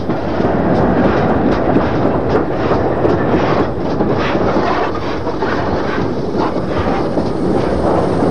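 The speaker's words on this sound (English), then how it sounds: "Yet another mogul, number 6378, departs south with this short freight train." Ex-Southern Railway mogul steam locomotive number 6378 departs south hauling a short freight train, heard near and loud as a steady rolling rumble with rhythmic clickety-clack of wagons and some wind buffeting, no voices.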